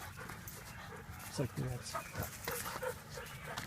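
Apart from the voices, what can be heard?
dogs panting and barking at a dog park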